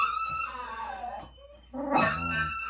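Dog howling in a long, wavering, rising-and-falling cry in a messy basement room, a second louder howl following a brief pause, close and without talk.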